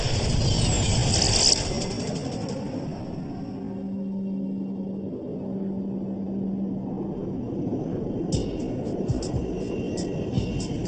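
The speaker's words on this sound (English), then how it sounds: "A China Airlines flight cruises across the Pacific to Los Angeles." A China Airlines airliner cruises at 12,000 meters over the Pacific in 1985, heard as a steady, muffled low drone that continues evenly throughout, with faint sustained tones layered above it.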